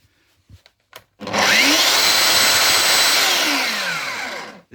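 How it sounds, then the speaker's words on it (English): A domino joiner powers up and plunges into wood, cutting a mortise: a loud, steady whining motor with rising and falling pitch for about three seconds, close by, after a few faint clicks, then winding down. "it drills a straight little mortise"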